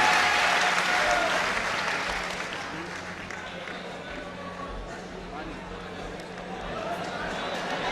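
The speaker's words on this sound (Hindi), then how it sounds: "एक बार तालियां बजा के" An audience at an All India mushaira poetry gathering in Gandhi Bhawan, Lucknow, breaks into loud, dense applause. The applause softens in the middle and swells again, with voices talking underneath.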